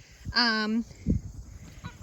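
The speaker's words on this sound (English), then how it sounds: "Geese being funny." A single loud, drawn-out goose honk sounds close by, followed by a couple of shorter, quieter honks and low rustling.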